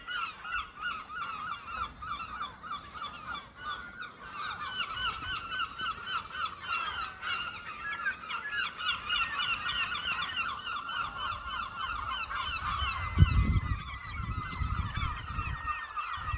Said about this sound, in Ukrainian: крики чайок та інших птахів